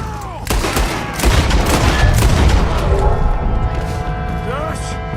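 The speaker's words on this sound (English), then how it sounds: "The gang breaks out through the roof while Pinkerton's firing from every angle." Gunfire during a rooftop shootout in the Western action game Red Dead Redemption 2, a dense burst of loud, overlapping shots with booming echoes under a steady background roar, no talk.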